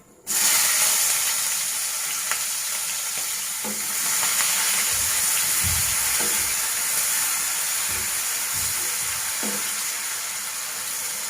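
Chopped onion sizzles loudly as it drops into hot oil with whole cardamom, cinnamon, cloves and bay leaves for a Bengali desi chicken curry, a steady close fry with occasional stirring clinks.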